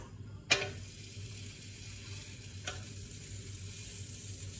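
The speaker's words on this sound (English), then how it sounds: "Now you're going to throw in your onions." Onions hit a hot pan and start frying for a Mexican dish, a sharp sizzling burst followed by steady crackle and hiss, with a second smaller stir or toss partway through, close up and without talking.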